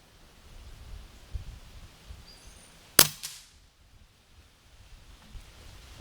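A single sharp crack from an Umarex Origin 25 air rifle sending a pellet at a target, close and distinct against quiet outdoor background rustle.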